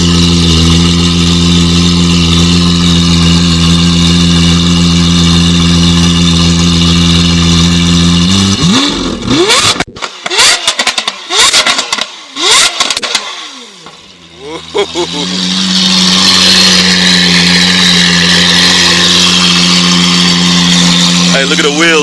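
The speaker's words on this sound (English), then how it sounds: "Alright, he's gonna rev it." A Lamborghini Aventador SV fitted with a Brilliant Exhaust system idles loudly and steadily, then is revved hard in several sharp bursts before settling back to a rumbling idle, with people talking nearby.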